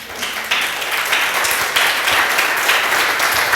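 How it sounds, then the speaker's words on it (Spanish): A church congregation breaks into loud, close applause of praise during a sermon, many hands clapping in a dense, steady roar that swells and holds for several seconds with no one speaking. "¿No le da un aplauso de alabanza?"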